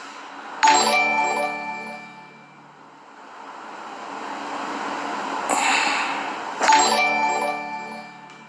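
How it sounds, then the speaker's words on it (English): Bright chiming notification dings recur as two sharp tones a few seconds apart over a busy background of music and noise. "what's up with this notification, bro?"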